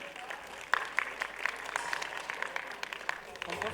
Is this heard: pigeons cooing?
no